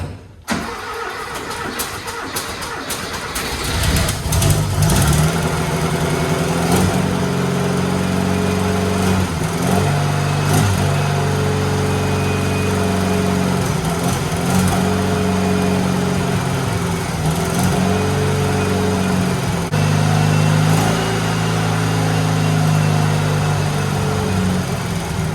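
A hot rod Porsche 911 running rough on bad gas cranks and fires up, then idles loud and close with an uneven, lumpy engine note and occasional stumbles for over twenty seconds.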